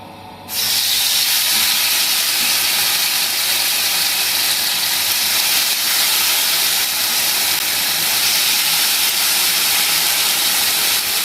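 Marinated chicken steaks fry slowly in about two spoons of oil in a pan over low heat, giving a steady, loud, continuous hiss that starts abruptly and holds unbroken throughout.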